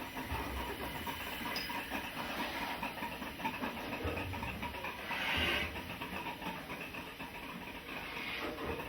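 Continuous rumbling and hissing of a steam locomotive on the Swanage Railway backing away from its carriages after uncoupling, with steady engine noise and a brief louder surge midway, no voices.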